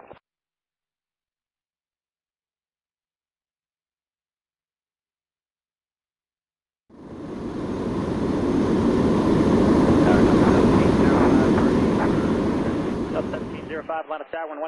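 A Boeing 747 from the Airline Commander flight game, a Korean Air jet departing Seoul Incheon, roars up after silence into a loud, sustained broadband rumble of jet engine thrust for about seven seconds, then cuts off abruptly near the end.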